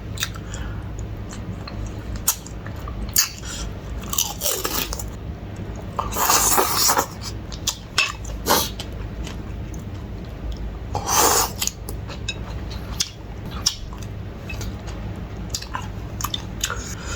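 Boiled soft claws are bitten and chewed close up, with wet squishy crunches and mouth sounds coming in uneven bursts, and no talking.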